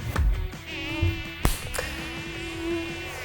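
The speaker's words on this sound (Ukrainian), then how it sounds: "Як же набридли ці комарі?" Mosquitoes whine in a thin, sustained buzz that rises and falls as they fly past, with a few sharp clicks and low thumps around it and no speech.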